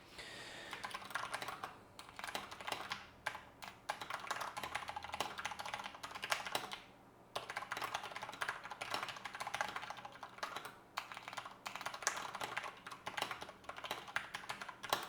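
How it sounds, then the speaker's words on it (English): Typing on a computer keyboard at a standing desk: steady rapid key clatter, close and fairly loud, running almost continuously with a couple of brief pauses and no talking. "Just normal typing caused everything to wobble like crazy."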